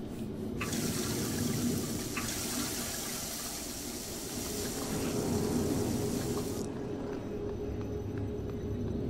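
A tap runs in a sci-fi station setting in Prey, water gushing in a bright steady stream that starts suddenly, pours for several seconds, then cuts off, leaving a low background hum.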